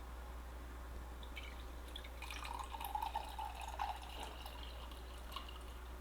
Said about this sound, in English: Put the water in there.